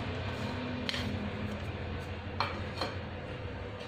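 A spoon stirs a falooda mix of chia seeds, vermicelli, raisins and cashews, giving a few light clinks against the bowl amid soft scraping, close and fairly quiet.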